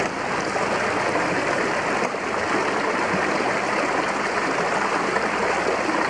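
Water gushing steadily from the outlet pipe of a simple water pump, a loud, continuous broadband rush like a small stream with no pauses.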